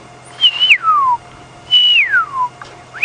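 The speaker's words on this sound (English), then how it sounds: "that's the normal call, that beautiful plaintive whistle" A bird on a safari game reserve in South Africa gives two clear, loud, plaintive whistles, each sliding down in pitch, separated by a short pause.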